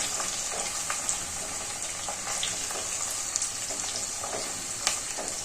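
Onions frying in a pan for a homemade spice-powder rice dish, a steady close crackling sizzle with faint stirring scrapes throughout.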